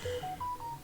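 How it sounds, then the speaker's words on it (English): A phone goes off with a sequence of four steady electronic tones, each held briefly in a rising-then-level pattern, moderately loud over a quiet background with no talking. "I apologize for my phone going off."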